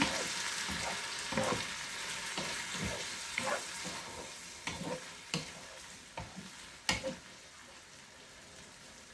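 Tofu sizzles in a pan, a steady crackle and hiss punctuated by repeated utensil knocks and stirring clatters at an uneven rhythm, close up with no speech.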